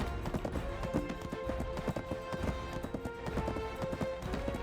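Horse hooves clip-clop in a video game, a steady run of hoofbeats close and clear over a busy game soundscape with faint tonal music.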